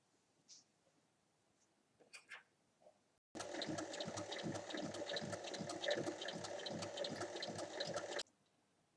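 Sewing machine stitching steadily along a folded fabric strip for a zippered pouch, a fast even run of needle strokes lasting about five seconds between a few soft handling noises.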